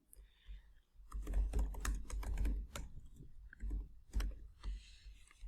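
Rapid typing on a computer keyboard while entering data, with clustered bursts of key clicks, brief pauses and a few louder strokes, close up and alone without talk.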